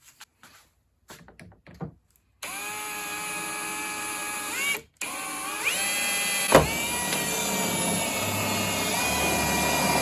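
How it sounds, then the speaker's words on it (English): An electric drill bores straight through the plastic and metal of a Gen 3 Mitsubishi Montero rear door, whining loudly in two sustained runs with pitch shifts as the bit bites, after a few short taps. "I'm going to drill straight through there. That way it goes through the plastic and the metal at the same time."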